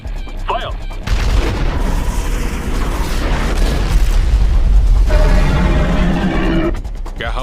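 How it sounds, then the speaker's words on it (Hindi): Heavy weapons fire from anime military units, with a dense, sustained barrage of loud booming blasts and rumbling explosions that starts abruptly after a brief opening and continues almost to the end. "रॉजर, सभी यूनिट फायरिंग शुरू करो।"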